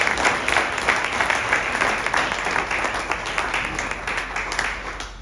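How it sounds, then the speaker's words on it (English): Applause from an audience at a climbers coalition event, with a steady wash of clapping from a modest crowd that holds at an even level and fades a little near the end. "So we get a round of applause for those sponsors."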